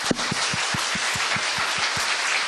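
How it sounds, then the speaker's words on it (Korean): A studio audience at a Korean lecture show applauds a hardworking young man, dense crowd clapping with a steady pulse of deeper thumps running beneath it throughout, with no talking. "우리 다시 한번 열심히 사는 이 젊은 청년에게 박수 한번 주십시오."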